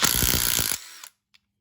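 A ratchet socket wrench works a 12mm bolt on a Cat pressure washer pump taken off a Ridgid unit, producing a quick burst of close, rapid metallic clicks that stops abruptly, followed by a faint knock and silence.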